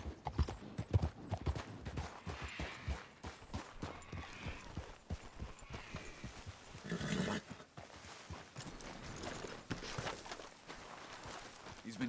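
Horse hooves pound in a steady, rhythmic clip-clop on a ride in Red Dead Redemption 2, with a few whinnies and neighs. Some talk is heard over the hoofbeats.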